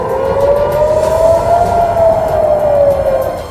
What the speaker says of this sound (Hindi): वहां हमलों की चेतावनी के सायरन बजने लगे